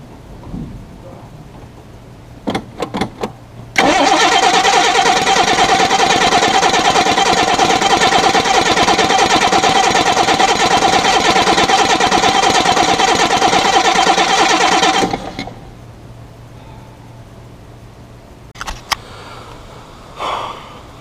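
A car engine cranks steadily and loudly for about eleven seconds as it struggles to start after the gas pedal was pumped, preceded and followed by brief clicks and knocks in a quiet space.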